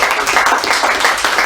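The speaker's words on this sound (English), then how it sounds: "So I'd like to give him a hand clap now." Audience hand clapping for a donor who funded a police department community room remodel, a dense steady patter of many hands filling the short moment without pause.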